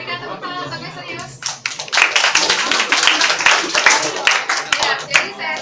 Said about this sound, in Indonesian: Berikan tepuk tangan untuknya serius.